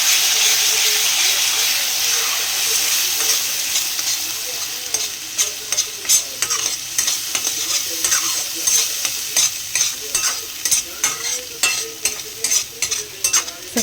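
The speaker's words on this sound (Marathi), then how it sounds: "सगळा मसाला एकदा मिक्स करून घेऊया व्यवस्थित" Ground masala spices for paneer bhaji sizzle in a pan while a spoon stirs them, the frying hiss steady at first and then broken by regular scraping strokes near the end.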